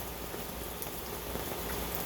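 Steady rain falling outdoors in cold weather, a dense continuous hiss of drops with no voices.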